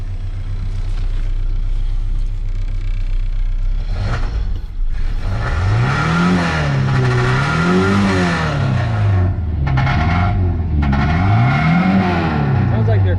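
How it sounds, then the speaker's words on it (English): An old car engine that has just had a new fuel pump fitted idles roughly, then is revved several times in rising and falling surges, loud and close. "I'm gonna rev it."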